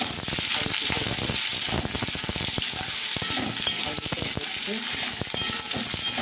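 Potatoes frying in oil with turmeric and salt in a home kitchen pan, a continuous loud sizzle with dense crackling pops and stirring scrapes throughout.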